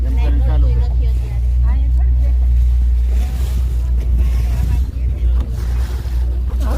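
A tourist boat on a lake in Kankroli, Rajasthan, gives a low steady engine drone under wind buffeting and water wash, with people talking close by throughout.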